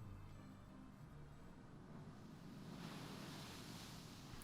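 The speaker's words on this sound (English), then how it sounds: "It was the roar of the sea." Roar of the sea in the game Umineko: a faint, steady surf rush that swells louder and brighter over the last couple of seconds, with no voices.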